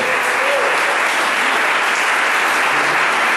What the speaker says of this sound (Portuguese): Vamos aplaudir o Deus Todo-Poderoso